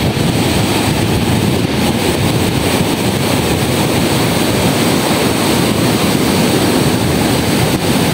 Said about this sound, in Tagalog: Doon sa dulo, kalalaki ng alon.